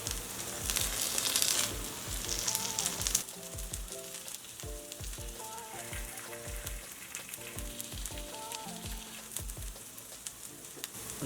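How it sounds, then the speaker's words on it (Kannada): Crispy stuffed tea-time snack frying in oil over a low flame and being turned, giving a loud, continuous close sizzle with scattered pops and crackles. "ಲೋ ಫ್ಲೇಮಲ್ಲೇ ಫ್ರೈ ಮಾಡ್ಕೊಳ್ಳೋಣ. ಎಲ್ಲ ಕಡೆಗೂ ಚೆನ್ನಾಗಿ ಫ್ರೈ ಆಗೋವರೆಗೂ ಬೇಯಿಸ್ಕೊಳ್ಳೋಣ."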